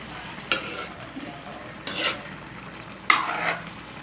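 Chicken adobo sizzles steadily in a pan as a utensil stirs it, with three distinct scraping sweeps spaced about a second apart over the constant close frying hiss.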